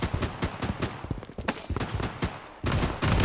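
Rapid bursts of gunfire crackle in the mobile shooter Project Bloodstrike, a dozen or more sharp shots in quick irregular succession, loud and close, with heavier firing picking up at the end.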